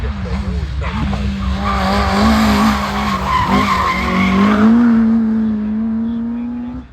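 A Peugeot 205 hillclimb car accelerates hard at the Harewood Hillclimb, its loud engine climbing in pitch through the gears with tyre squeal, while a commentator talks over it.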